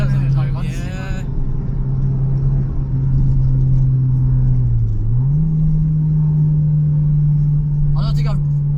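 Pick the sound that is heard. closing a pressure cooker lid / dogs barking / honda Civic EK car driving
honda Civic EK car driving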